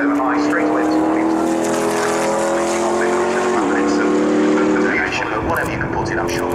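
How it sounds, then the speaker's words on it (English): A McLaren P1 GTR race car at Brands Hatch passing through a gate, its engine a loud continuous drone with a shifting pitch, close and under a voice talking throughout. "McLaren P1 that's just actually underneath you going through the gate back into Park Firm."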